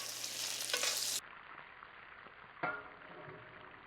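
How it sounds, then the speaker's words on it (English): A steak being basted with butter in a hot pan with the heat turned off: a loud, steady sizzle for about a second drops to a low simmering hiss, then flares up again briefly with a scraping stir. "Add 3 tablespoons of butter. Turn your heat off. We're going to go ahead and begin basting."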